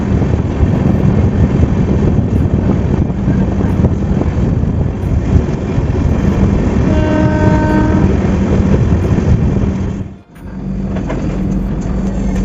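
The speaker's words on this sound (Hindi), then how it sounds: "फिलहाल ट्रेन हमारी अराइवल हो रही है हल्द्वानी रेलवे स्टेशन" Shatabdi Express train pulling into Haldwani railway station on a curve, a loud, steady rumble of wheels and carriages with a brief horn-like tone partway through and a short dip near the end, no talk.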